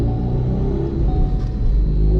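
Ford Focus RS engine running on a dyno, a loud, close, continuous low rumble with a slight swell partway through, heard alone without talk.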